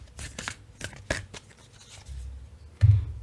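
Moonology oracle cards being shuffled by hand in a tarot reading, with a run of crisp riffling flicks and card slaps, then a heavier thump as cards are set down near the end.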